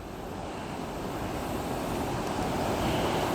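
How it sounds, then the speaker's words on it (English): Water flowing over a weir on the second Welland Canal, a steady continuous pour, a broad roar that builds slightly louder toward the end, with no voices. "You can hear the water coming over the weir at the high end"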